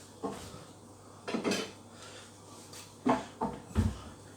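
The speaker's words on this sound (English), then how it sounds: "if I grab a plate out of my cupboard" A plate is lifted out of a kitchen cupboard, giving several close clinks and knocks of crockery spread over a few seconds, with a heavier clatter near the end as it is set down, in a quiet room.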